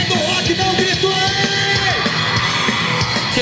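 Rock fans at a hardcore punk show yell and whoop together in a loud, sustained crowd roar lasting the whole moment, dense and close.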